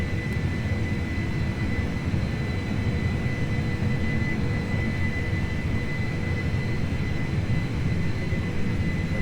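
Boeing 747-400F jet engines at takeoff thrust in the Prepar3D flight simulator, a steady, dense roar with a broad low rumble and a faint high whine held throughout without letup.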